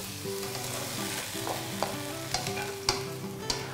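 Squid carbonara sauce sizzles and stir-fries in a pan as wine cooks down, giving a steady crackling hiss with scattered sharp pops from stirring and spattering. No voices are heard.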